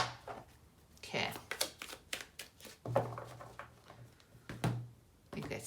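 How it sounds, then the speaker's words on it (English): Soft riffling and tapping of tarot cards being shuffled in irregular bursts, close up and quiet, with a single spoken word near the start. "think that's enough shuffling."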